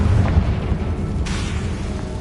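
A Confringo blasting spell bursts in Hogwarts Legacy on PS5 as a loud, deep boom, followed by a rumbling tail and a second, fainter burst.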